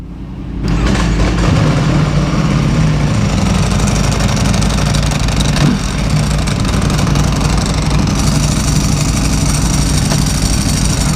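A Ducati Panigale V4 R idles close by with its dry clutch rattling, a steady, loud mechanical rumble that starts abruptly after a brief silence and holds evenly to the end, with no talking over it.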